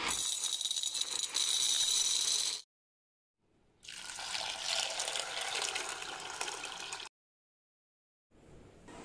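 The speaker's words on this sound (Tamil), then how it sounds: "இப்போ கொண்டக்கடலையில் தேவையான அளவு தண்ணி விட்டுட்டேன்" Water gushes over chickpeas in a container to soak them, two long, steady pours separated by a pause of silence, with a third pour beginning at the end.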